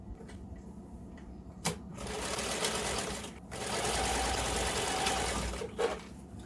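A sewing machine stitching two skirt band fabric pieces together in bursts, running steadily about two seconds at a time between pauses, with a soft click at each start and stop.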